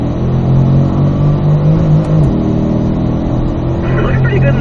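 A Chevrolet Corvette engine pulls hard in fourth gear on a racetrack, a loud steady drone heard from inside the cabin, with a voice talking over it.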